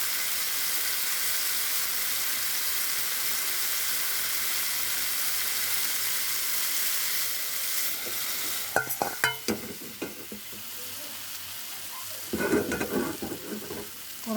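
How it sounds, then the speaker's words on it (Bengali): Tomatoes sauté in oil with chili and black mustard seeds in a kadai, making a steady, even sizzle. Later come bursts of clattering stirring and spatula knocks against the pan. "আমি টমেটোগুলো একটু সাঁতলিয়ে নিচ্ছি।"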